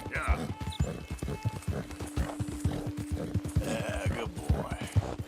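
Horse hooves clip-clop in steady rhythm while riding in Red Dead Redemption 2, close and clear, with an occasional whinny and someone talking over the hoofbeats throughout.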